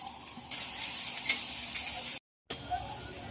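Onion, carrot and beans dropped into hot oil for chaomein set up a loud, steady sizzle with a few sharp crackles and stirring clinks, then a brief complete dropout before the frying resumes.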